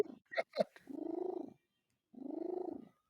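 A cat purring: two drawn-out, rhythmic rumbling purrs, close and fairly faint, separated by a short pause and preceded by a few brief clicks and rustles.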